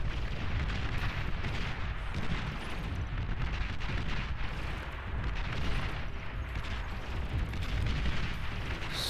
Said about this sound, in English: So many T1 artillery emplacements.